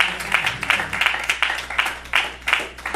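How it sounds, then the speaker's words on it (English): A church congregation at a COGIC service claps in a steady, rhythmic beat, the sharp hand claps loud and close, repeating evenly about three times a second. "Come on, let's clap our hands right there."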